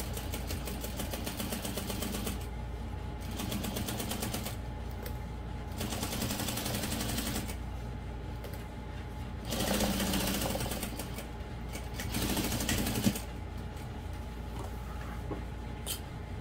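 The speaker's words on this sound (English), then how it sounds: "I'm just going to sew those together using a 1/2 inch seam allowance" A sewing machine stitches slip pocket panels of vinyl and waterproof canvas for a parachute knapsack, running in steady rapid bursts with short pauses between, close and loud with no talk.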